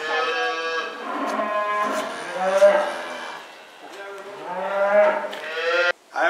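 Several dairy cows on a pasture farm moo in long overlapping calls, loud and fairly close, with brief speech nearby.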